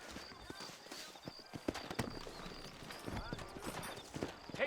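Video game horses in Red Dead Redemption: hooves clip-clop steadily at close range, with an occasional whinny, while people talk over the rhythmic hoofbeats.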